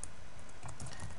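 Fast typing on a computer keyboard, a quick run of close, soft key clicks over about a second.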